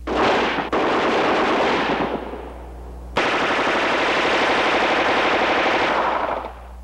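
Heckler & Koch weapons fire live rounds in a 1970s demonstration, with dense rapid automatic bursts ringing loud and close, a short gap, then another long sustained burst.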